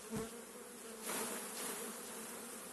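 Honeybees buzz around an open hive while frames are handled, during colony preparation for winter, a steady close drone with a louder swell partway through, and no voices.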